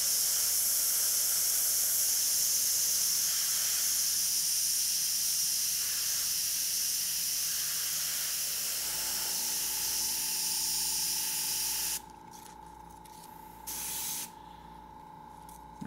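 Airbrush spraying paint through a stencil onto a zombie-themed background, a steady close hiss of air that runs continuously, then cuts out briefly near the end with a short burst before stopping.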